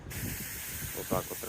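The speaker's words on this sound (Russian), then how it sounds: "я вон обливаюсь. Вот так вот распылителем." A handheld spray bottle mists water onto a person on a hot day inside a truck cab, giving short hissy spritzes over a steady cab drone. A murmuring voice is faintly present.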